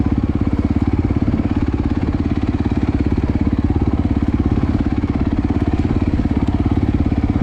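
A dirt motorcycle idles in neutral on a single-track trail, its engine putting out a steady, loud, close-up chugging rumble with a fast even pulse and no break across the whole stretch.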